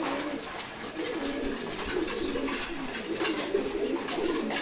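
Pigeons coo repeatedly in soft, rolling calls while being fed in the morning, several birds overlapping close by in a continuous chorus.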